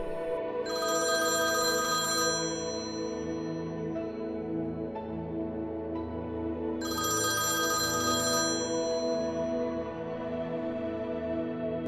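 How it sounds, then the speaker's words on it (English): A mobile phone left in a room rings unanswered, two long bursts of bright electronic ringing separated by a pause, with a steady background hum throughout. "we placed the phone in a room and let it ring until a ghost or spirit answered"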